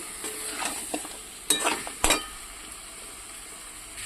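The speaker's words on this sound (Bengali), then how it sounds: "দেখো বন্ধুরা মাংসটা আমার কষানো হয়ে গেছে।" Chicken sautéing in oil with spice masala for a Bengali chicken curry, a steady soft sizzle with scraping stir strokes and two sharper clanks of the spoon against the pan, close and without talk.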